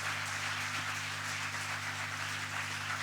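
A church congregation applauding, a steady wash of clapping spread across the whole stretch, moderately distant and even, with a low steady hum running underneath.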